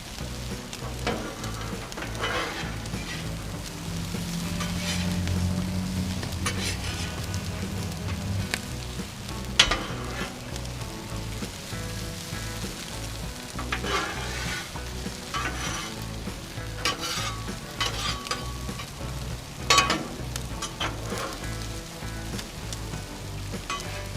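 Potatoes for corned beef hash fry on a Blackstone flat-top griddle, a constant crackling sizzle layered with rhythmic scraping of a metal spatula turning them, a few sharper clanks along the way, close and with no talking.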